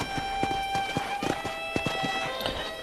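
A horse's hooves clip-clop in Red Dead Redemption in a steady walking rhythm of distinct, fairly close thuds, set against a faint tonal background hum.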